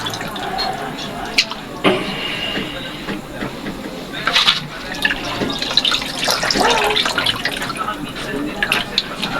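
Running water splashes and trickles over milkfish innards being washed by hand, with drips and wet handling noises throughout and a voice speaking over it.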